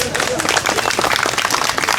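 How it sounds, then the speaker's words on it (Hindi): Crowd at a relay hunger-strike protest gathering claps in a short, loud, fairly close burst, with irregular hand claps blending into a continuous patter. "कमज़ोर तालियों के लिए बेहद शुक्रगुजार हूँ, बहुत कमज़ोर ताली है आप लोगों की।"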